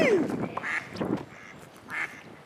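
Several ducks quacking close by near water, a few loud, raspy calls in quick succession with softer quacks between them.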